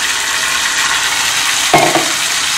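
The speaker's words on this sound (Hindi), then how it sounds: "तो मैं इसमें तीन मीडियम साइज के टमाटर की प्यूरी डाल रहा हूँ" Tomato puree from three medium tomatoes hits hot oil in a pan for a khoya makhana curry, giving a steady loud sizzle with a short splattering surge near the end, no voices.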